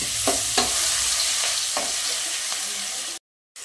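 Cumin and green chili paste fry in hot oil for misal pav, a steady close sizzle broken by a few stirring scrapes, then cutting to silence near the end.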